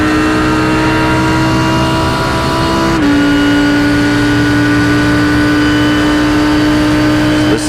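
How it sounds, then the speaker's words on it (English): A sports race car at the Indianapolis round of the Australian Sports Car Championship roars loud and close at sustained high revs down the straight, with a brief gear shift partway through, heard alone. "Listen to the throttle trace into the straightaway"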